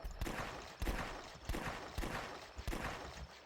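Gunfire in the shooting game The Last Stand, five evenly spaced sharp shots about half a second apart, moderately loud and alone.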